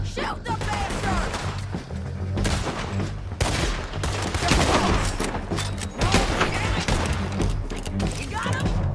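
Gunfire from a Red Dead Redemption 2 shootout, dense overlapping shots and bursts throughout, loud and continuous with shouted voices mixed in.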